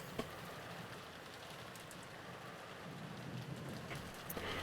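Steady rain with wind in the Umineko visual novel, a continuous wash of falling drops with a few brief louder taps, even in level throughout with no voices.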